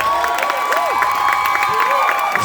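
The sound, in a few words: audience applauding and cheering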